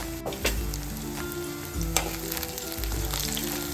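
Green chillies, curry leaves and onion frying in hot oil in a pan, a steady close sizzle with periodic stirring scrapes and a light clink, no talking.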